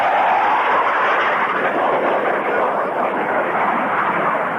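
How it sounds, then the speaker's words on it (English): A loud, steady roar of a Hawker Hunter jet passing low and fast at an airshow, broadband rushing noise filling the whole clip with a faint high whistle from the intakes. "Just starting that famous Hunter blue note, whistling noise from the intakes rather than from the exhaust."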